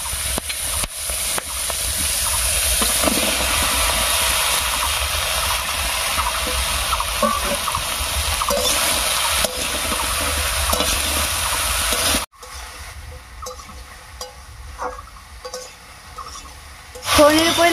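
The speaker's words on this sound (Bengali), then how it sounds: "ফোড়নের উপরে লাউটা দিয়ে একটু নাড়িয়ে নিয়েছি" Cut bottle gourd is stirred over a tempering of black cumin and green chilli in oil, giving a loud, steady sizzle with scraping stirs that drops to a quieter hiss with occasional clinks.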